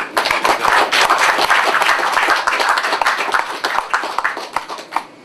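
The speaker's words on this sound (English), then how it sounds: "So how about a round of applause for all the officials?" A crowd of onlookers at an outdoor solar facility ribbon cutting gives a loud round of clapping, dense at first and then breaking into scattered individual claps as it dies down.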